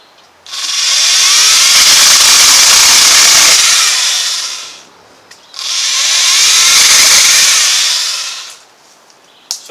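A Ryobi Expand-It cutting attachment on an 18-volt battery powerhead whirs loudly through branches in two long, steady bursts of several seconds each, close up, with a short gap between them.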